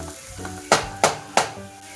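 Three distinct scraping strokes of a spoon stirring tomato masala with boiled eggs in a pan, evenly spaced, close and fairly loud over a faint cooking hiss.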